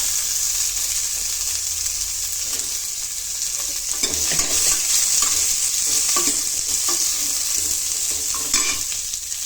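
Onion with green chillies frying in oil and stirred in a pan, a steady hissing sizzle throughout with scattered scraping stirs from the spoon, close and fairly loud, no talking.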